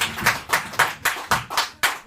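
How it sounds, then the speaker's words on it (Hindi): Audience applause during a Hindi Dastangoi storytelling performance of Raag Darbari, heard as a short run of about eight sharp, evenly spaced claps with no talking over them. "हाँ ताली"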